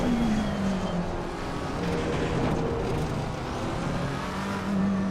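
A race car engine in Assetto Corsa Competizione at Kyalami drones steadily throughout, its pitch wavering slightly as it runs close and continuous, with no talking.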